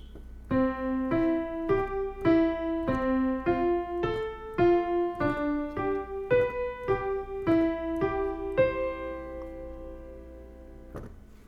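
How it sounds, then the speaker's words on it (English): Piano arpeggios rolling through a series of chords, notes struck one after another in an even, steady rhythm, each ringing briefly before the next. "I could just play the arpeggio of those chords."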